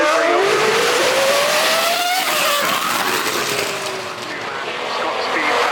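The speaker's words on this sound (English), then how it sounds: "So this is the Renault E20 from 12 years ago" A Renault E20 Formula One car at the Goodwood Festival of Speed screams past, its high-pitched engine revving up and down through gear changes, loud and continuous with crowd ambience and a voice talking underneath.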